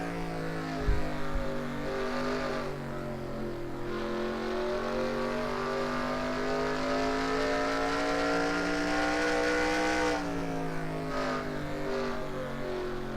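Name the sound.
race car cutting through a corner, onboard audio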